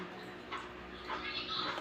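A nearby dog, just bathed, whimpers in short, high whining bursts, fairly faint, over a low background hum.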